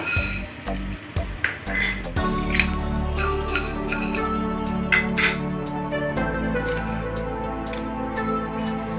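A metal pan is set on a stove and coriander seeds are tipped in for a chicken pickle, with clattering metal knocks and clinks followed by a scattered rattle over a steady hum.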